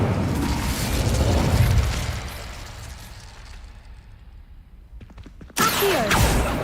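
An Incendio fire spell in a Harry Potter video game flares with a loud whooshing burst that fades into a low rumble, then a few clicks and a sudden bright crackling blast.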